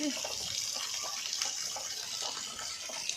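Heavy rainwater pours off a house roof in a steady, dense rushing gush that fills the whole stretch with constant splashing noise, fairly close and unbroken.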